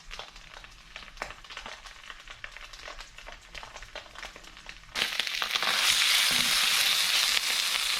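A mackerel fillet fries in a pan, with quiet scraping and crackle at first, then a loud, steady sizzle that swells and stays close for the last few seconds.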